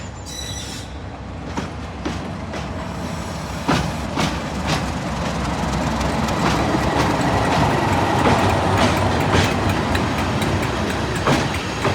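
Class 37 diesel locomotive 37607 rumbles past at a heritage railway diesel gala, hauling a London Transport carriage, with loud continuous engine drone, rhythmic clickety-clack of wheels over rail joints and occasional wheel squeal.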